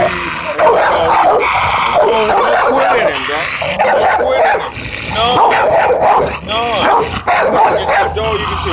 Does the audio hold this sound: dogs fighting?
yes